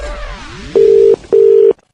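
A telephone line tone plays while a prank call is placed: faint warbling sweeps first, then two long, loud, steady beeps with a short gap between them, ending abruptly.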